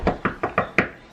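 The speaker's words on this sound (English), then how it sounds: "Knock on wood." Five quick knocks on wood, close and crisp, in an uneven rhythm, with nothing else around them.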